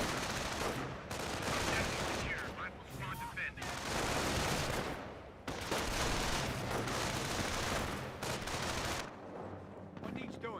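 Rifle squad gunfire in Company of Heroes 1 rattles off in dense, loud bursts and volleys, with brief pauses between overlapping rifle and machine-gun fire and heavy impacts.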